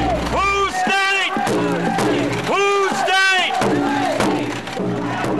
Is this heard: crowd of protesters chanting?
yes